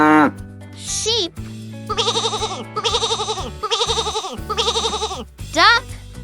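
Four loud, wavering sheep bleats come one after another in an even rhythm, over a steady backing of music with bright chime-like sweeps at the start and end.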